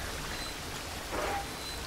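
Rain falling in the Metro Exodus video game, a steady wash of patter and hiss with a slight swell midway, continuous and moderately loud with no talk.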